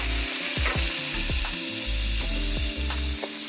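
Ground beef, paprika and rice are stirred together in a pot. A loud, dense sizzling hiss runs throughout, with a series of spoon scrapes and knocks close by.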